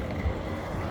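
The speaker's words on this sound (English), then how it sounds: "this wind is actually thrashing me" Strong wind thrashing outdoors on a hike, a dense continuous roar of buffeting air against the microphone with a brief low thump, no talking.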